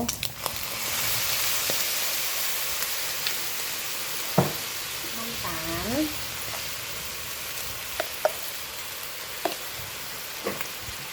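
Egg fried rice with Chinese sausage stir-frying in a pan, a steady hissing sizzle with scattered clacks and scrapes of the spatula and a brief voice partway through.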